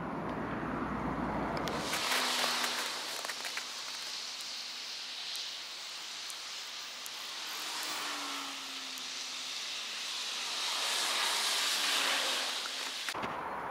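Egg cartons dotted with candle wax catch and burn in a fire, giving a steady broadband crackling hiss that starts abruptly and holds for several seconds before cutting off, with no talking over it.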